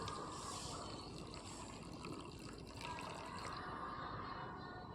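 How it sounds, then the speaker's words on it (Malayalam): Jaggery syrup poured from a pan into flattened rice, a soft, faint continuous liquid trickle and splash lasting several seconds with no talking. "ശർക്കര ലായനി അതിലേക്ക് ഒഴിക്കുക."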